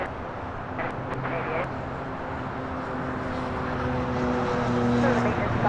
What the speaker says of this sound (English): This is British Airways Flight 282, Speedbird 8 Delta Sierra Heavy, taking off to London Heathrow on a 777-200 ER